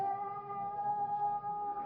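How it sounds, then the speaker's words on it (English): A cat howls in a 1939 old-time radio drama, a single sustained, tonal caterwaul held steadily at moderate loudness, with no talk over it. "we heard that cat howling the other night"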